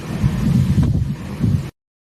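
Wind buffets a microphone on a cruise ship balcony in choppy conditions, a loud continuous low rumble with gusty surges that swell and fade before cutting off abruptly.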